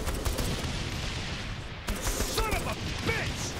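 Gunfire and explosions in the Saints Row 3 space level, a dense, continuous clatter of shots and booms with whooshing weapon effects, near and loud throughout, a voice chatting faintly underneath.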